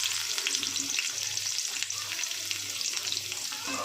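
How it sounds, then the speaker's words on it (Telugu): Onions with tempering spices, green chillies, garlic and curry leaves fry in a hot pan, a loud continuous sizzle and crackle with a low rhythmic rumble underneath. "ముందుగా ప్యాన్ పెట్టుకొని అందులో పోపులు వేసుకోవాలి. అందులో కొద్దిగా ఉల్లిపాయలు,"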